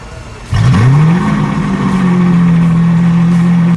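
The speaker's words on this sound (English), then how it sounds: "Let me show you what it sounds like just by starting it up." A 2017 Lamborghini Aventador S with over 700 horsepower fires up after a quiet lead-in, its engine whooping up loudly then settling into a steady, rumbling idle close by.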